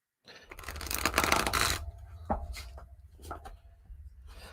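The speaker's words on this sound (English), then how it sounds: "Kind of getting better at shuffling cards." Playing cards are shuffled in a quick riffling burst, followed by a few softer taps and flicks of the deck.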